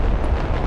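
A helicopter blows up in the combat video game Broken Arrow, a loud, dense roar of blast and rumble that fills the short moment with no talking.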